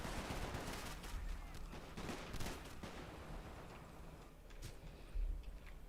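Machine gun fire in the World War One game Company of Heroes 1918, a steady rattle of distant bursts mixed with scattered gunshots and low rumbling battle noise, fairly faint overall.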